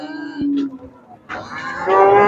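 Oxen at the Shahrisabz livestock bazaar give low, drawn-out moos close by, with a busy crowd murmuring and people talking in the background.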